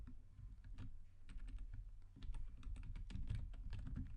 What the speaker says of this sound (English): So I'm just gonna type the application name, which is Mindizor